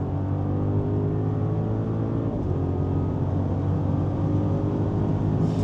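A 2024 Audi SQ8 with a 4.0L V8 holds a constant, deep, loud engine rumble under acceleration, heard from the cabin with no speech over it.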